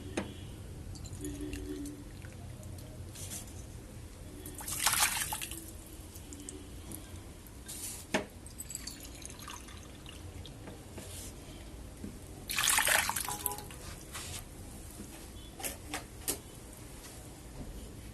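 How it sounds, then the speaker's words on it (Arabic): Boiling water pours into a bowl of jelly powder, a continuous liquid rush throughout, swelling louder in two bursts, with small clinks and drips scattered over it. "واحط عليهم كوبايتين ميه مغليه"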